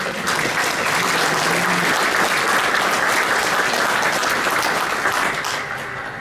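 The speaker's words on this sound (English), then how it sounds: "Let's give them a round of applause." A large reunion audience at a West Point class of 1959 gathering breaks into sustained, loud applause, a dense even roar of clapping that fades slightly at the close.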